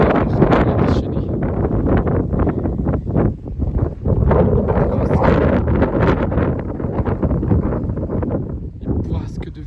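Strong bise wind gusts by a raging sea, roaring and buffeting loudly in broad bursts, with a voice speaking over the rushing blasts.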